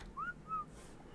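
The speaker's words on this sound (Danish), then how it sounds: "Ja, jeg står og fløjter her." A game character whistles in Ark Survival Evolved, two short rising whistled notes with a pause between them, fairly faint over a low steady background hum.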